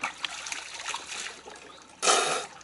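Water trickles and flows steadily nearby, then a brief, louder gush splashes in near the end, with no speech.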